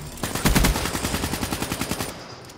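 Automatic gunfire in Black Ops 3 opens with a heavy burst, then settles into a rapid, even stream of loud close shots before cutting off near the end.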